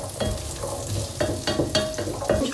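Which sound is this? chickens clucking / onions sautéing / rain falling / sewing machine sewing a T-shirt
onions sautéing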